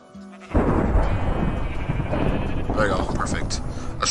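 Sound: sheep bleating in Minecraft video game

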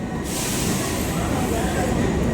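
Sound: train arriving at station

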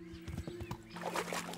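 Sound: horse neighing and hooves in Kingdom Come Deliverance video game

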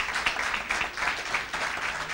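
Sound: studio audience applause

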